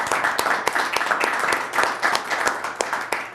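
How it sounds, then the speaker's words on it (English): A small audience at a Winchester select board meeting applauds two retiring members, a dense run of handclaps from a modest crowd that stays steady and close for several seconds. "So maybe if I could ask for a round of applause from those who are here in the audience for these two members."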